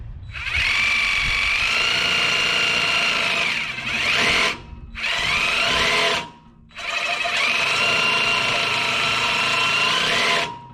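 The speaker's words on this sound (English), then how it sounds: "We're gonna chop this piece of pipe off and finish the pipe before we mount the hanger." A power saw fitted with a new blade cuts through a steel exhaust pipe on a 1992 Chevy Silverado 2500 5.7L V8. The whine runs loud and close in three long bursts, broken by two short pauses.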